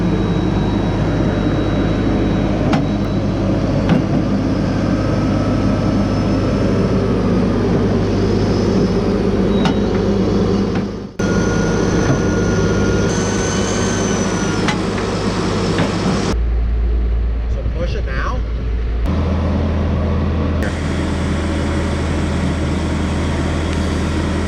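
Logmax 7000 harvester head running with a steady low hydraulic and engine drone, its bottom knife jumping up and down, with abrupt shifts in the hum and a few sharp clicks and knocks.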